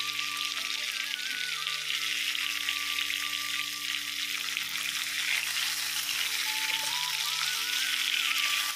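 Fish frying in a pan in a home kitchen, a steady close crackling sizzle that runs unbroken throughout with no talking.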